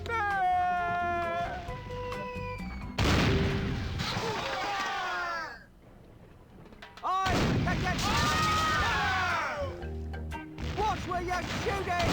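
Cannon fire in the game The Curse of Monkey Island: loud booming blasts with crashing debris in two big bursts, mixed with cartoonish character voices and musical tones.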